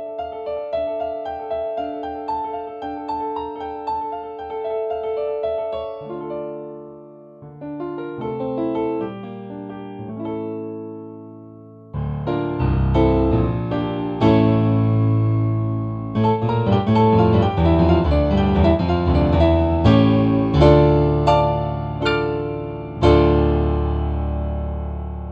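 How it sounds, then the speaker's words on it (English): A Kawai CN39 digital piano's EX Concert Grand sound plays alone, starting with gentle flowing passages, then building into fuller, louder chords with rich low notes and ringing sustain. "let's take a listen to the sound of the Kawai EX Concert Grand."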